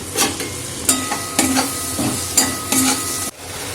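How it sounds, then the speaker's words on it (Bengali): Spice masala with turmeric, coriander powder and whipped yogurt frying in a pan, a close hiss of sizzling broken by regular spatula strokes scraping the pan every half second or so, ending in a sudden cutoff. "দই মিশিয়ে আমি 5 মিনিট কষিয়ে নিয়েছি।"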